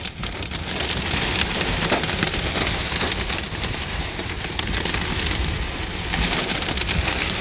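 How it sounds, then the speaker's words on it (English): Heavy rain with hail pounding down during a July storm in WaKeeney, Kansas, heard from under an awning: a loud, dense, unbroken roar of hammering drops that holds steady throughout. "It was definitely a hailstorm."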